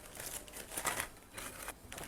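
A clean plastic bag is crinkled and handled in a home kitchen while making a cocoa-biscuit dessert; soft, scattered rustling bursts close by, fairly quiet, with no voice.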